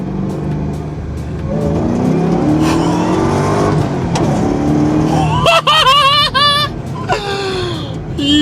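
A 2006 Ford GT with a 550-horsepower engine accelerates hard, its loud engine note climbing through rising revs, then a sharp gear change and another wailing pull higher, close and dominant, with a brief tire squeal and some voice underneath.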